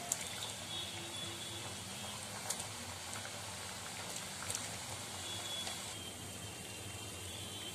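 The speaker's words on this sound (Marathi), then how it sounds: "एकमेकांच्या धक्क्याने शंकरपाळ्या एकदम मस्त तळल्या जातात, तेलामध्ये जेवढ्या त्या मावतात तेवढ्या आपल्याला त्या सोडायच्या आहेत" Shankarpale, small wheat-flour snack pieces, fry in hot oil with a continuous soft bubbling and crackle, fairly quiet and steady, dotted with occasional faint pops and no voices.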